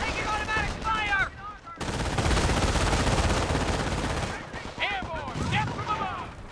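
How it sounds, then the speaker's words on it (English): Dense automatic gunfire in the video game Company of Heroes, a sustained loud burst of rapid shots, with shouted voices before and after the burst. "Taking automatic fire!"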